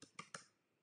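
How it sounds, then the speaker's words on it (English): Someone types quickly on a computer keyboard. Three quick faint key clicks come close together, then the sound fades into quiet. "Hopefully I spelled that right as I'm typing really fast."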